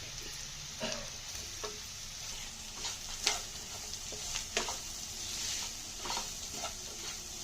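Dried prawns and grated coconut frying in a pan give a soft, steady sizzle, with occasional sharp clicks and scrapes from stirring scattered over it at low volume.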